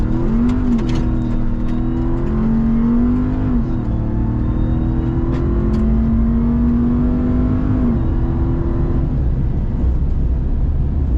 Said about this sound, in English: We're gonna get the 0 to 60 and see how quick it is.